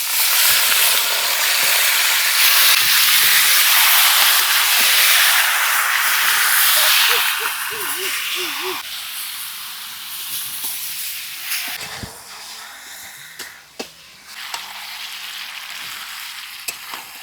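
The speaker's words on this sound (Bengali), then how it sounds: "এখন ম্যারিনেট করা মাংসটা দিয়ে দেব" Marinated chicken hits a pan of fried onion, cumin, bay leaf and dried chilli, setting off a loud, dense sizzle and hiss that holds steady for about eight seconds, then eases into a quieter, crackling fry.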